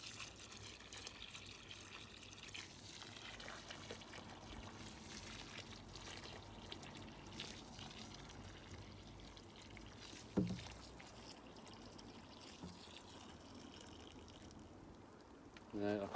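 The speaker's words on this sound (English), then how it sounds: "I'm going to give them a water" Water poured from a can onto kale plants on an allotment plot, giving a steady, faint, soft splashing wash that runs without a break, with a brief knock near the end.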